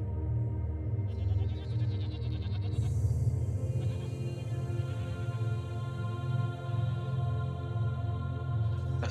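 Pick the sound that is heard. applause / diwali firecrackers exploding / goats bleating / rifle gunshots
goats bleating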